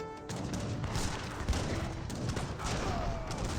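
Heavy cannon fire in an Age of Empires 3 battle, a dense stretch of overlapping booms and crackling blasts with no clear gaps, moderately loud and continuous.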